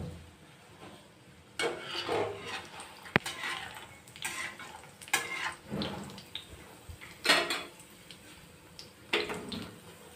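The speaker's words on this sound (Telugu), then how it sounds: "కదిపేసుకొని తీసేసుకుందాం." Snacks frying in a pan of hot oil being stirred, with scraping and clinking of a utensil against the pan in irregular bursts over a steady sizzle, close by and without speech.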